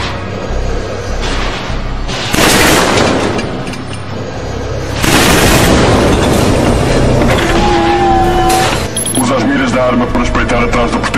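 Weapons firing at targets in the video game Killzone 3, heavy booming blasts and rattling shots in loud bursts, with tonal game effects toward the end.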